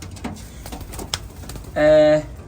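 A pigeon gives a single short, clear coo near the end, close and loud, over background chatter and low room noise.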